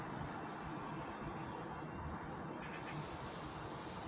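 Crickets and other insects chirping steadily near a house beside a mountain in South Korea, a continuous faint high trill with no voices over it.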